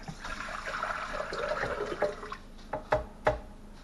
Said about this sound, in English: so in here, 3 cups of warm water